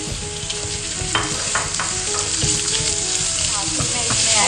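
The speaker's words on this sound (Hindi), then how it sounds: "प्याज देख सकते हैं आप नरम भी हो गई है और थोड़ा हल्का हल्का कलर इसका चेंज हो गया है मैं इसमें अब कीमा ऐड करूँगी" Minced meat going into softened, lightly coloured onions in a frying pan, producing a loud, continuous sizzle with stirring scrapes and a few clinks, heard close up without speech.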